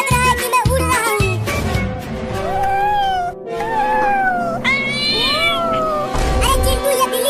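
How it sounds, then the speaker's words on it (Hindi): A cat meows loudly and repeatedly at close range, with drawn-out, wavering meows following one another over a busy background. "ये बिल्ली इतना बोल क्यों रही है, वो भी हमारे पास आकर।"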